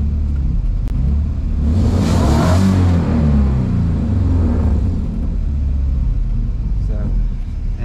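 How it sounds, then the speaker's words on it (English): Nissan 350Z with an HR engine swap revving slowly, a loud low rumbling engine whose pitch climbs gradually and then settles, heard close up with a continuous droning tone. "It's like really slow to gain RPM."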